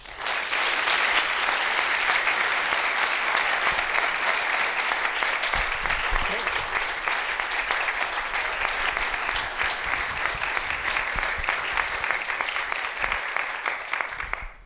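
An audience at a talk on the billionaire-funded radical right applauds to welcome historian Nancy MacLean: loud, dense clapping from many hands that holds steady for about fifteen seconds and tapers at the end.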